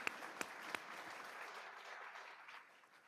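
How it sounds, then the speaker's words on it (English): Audience applause at a board meeting, a steady crowd clapping that carries on through the stretch, with a few sharper louder claps near the start, moderately distant. "Give them a round of applause"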